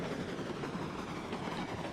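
A freight train in the railroad game Railroads Online rolls along with a steady rumbling clatter of wheels on track, continuous and fairly close, with no voices.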